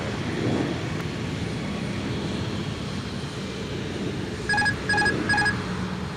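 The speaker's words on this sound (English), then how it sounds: "passing the viewing area on taxiway whiskey outbound to runway 17" An airliner taxis past the viewing area at MSP airport on a taxiway outbound to runway 17, giving a steady, moderately distant engine drone; three short electronic beeps sound near the end.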